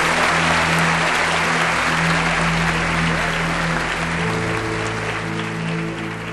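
Congregation applauding during a Baptist church worship service, dense steady clapping filling the room throughout, with sustained music or organ tones underneath.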